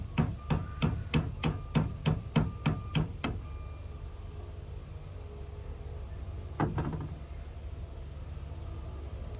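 A heavy Winkler Crusher knife chopping deep into material: about ten sharp, evenly spaced impacts in quick succession, then a pause and two or three more blows, loud and close with no talking.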